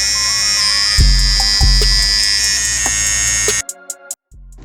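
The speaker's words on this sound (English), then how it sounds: "So if your Babyliss clipper is being extremely loud like so, you want to replace the blade." Babyliss Pro FX hair clipper with a worn blade running extremely loud, a steady, close, high electric buzz with a couple of thumps early on, then cutting off near the end and leaving a few brief clicks.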